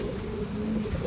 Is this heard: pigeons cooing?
yes